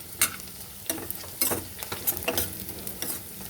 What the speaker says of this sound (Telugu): ఇప్పుడు వెల్లుల్లిపాయలు వేస్తాను, దంచిన వెల్లుల్లిపాయలు